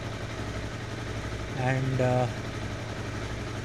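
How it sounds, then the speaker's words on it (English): A 2013 Honda CBR250R motorcycle engine idling to warm up, a steady low hum running throughout, with a brief spoken word partway through. "so I will just leave it in the idle for 5 to 10 minutes"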